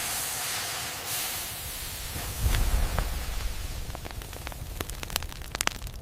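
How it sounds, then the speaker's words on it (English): A steam barrier in a glassblowing hot shop gives off a steady, loud broadband hiss that swells midway, with sharp crackles and pops growing more frequent toward the end. "Steam barrier in action."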